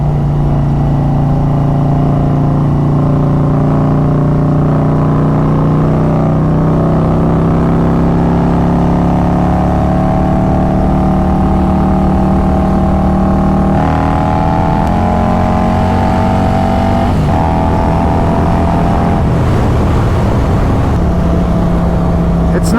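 A Harley Road Glide with a Stage 2 build and Khrome Werks Outlaw exhaust rumbles loudly, its deep engine note climbing and swelling through revs before easing back, close and continuous.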